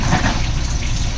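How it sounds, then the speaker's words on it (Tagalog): Loud, steady rush of water pouring through a household drain pipe, a continuous close gurgling flow with no voices. "kailangan tubig lang ang dadaloy para hindi bumara yung tubo"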